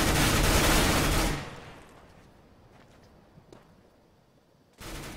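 A P90 submachine gun in Counter-Strike: Global Offensive fires a loud, rapid burst for about a second and a half. A quieter stretch with faint scattered clicks follows, then another burst opens right at the end.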